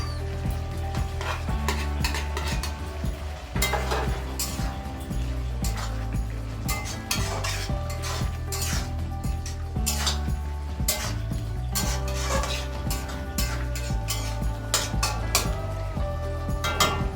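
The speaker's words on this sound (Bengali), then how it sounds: "ভেজে রাখা চিংড়ি মাছ দিয়ে দিচ্ছি।" Fried prawns being stirred into a pan with mustard oil, a steady sizzle under repeated scraping and clinking of a utensil against the pan, close and continuous throughout, with background music-like tonal hum.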